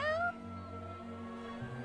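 A cat meows once, short and rising, in the video game Duet Night Abyss, followed by a quiet hum of background game music.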